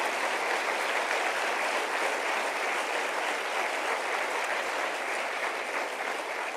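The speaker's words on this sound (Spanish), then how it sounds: "Denle un aplauso al Señor," A church congregation applauds in dense, continuous clapping that holds at an even, full level from start to finish, with no voices on top.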